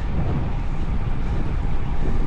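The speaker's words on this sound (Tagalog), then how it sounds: "sa lakas ng hangin" Strong gusts buffet the microphone on a windy outdoor bike ride, a steady low rumbling roar that fills the whole clip without letting up.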